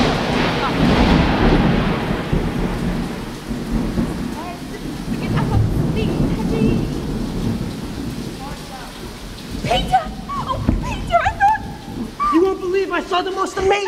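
Thunderstorm sound effect in a stage play, with heavy rain and rolling thunder rumbling loudly, then more sporadic drops and cracks as voices speak over the storm near the end.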